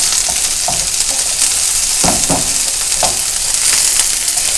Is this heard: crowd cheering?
no